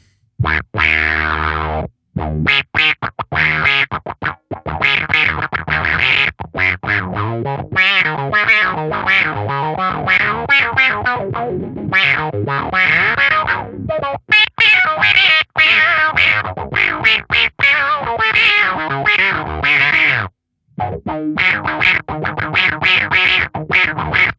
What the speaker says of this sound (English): it's definitely doing that auto wah thing